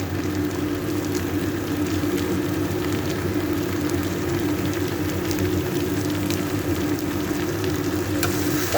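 Jackfruit curry sautéing with garam masala and spices in a hot pan, giving a loud, continuous sizzling crackle that stays even throughout with no voices.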